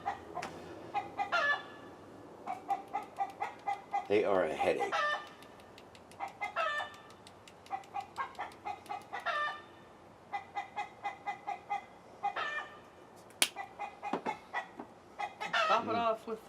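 Chickens cluck in a busy, repeated rhythm with a rooster crowing between them. The birds sound close and moderately loud, and a brief voice is heard among them.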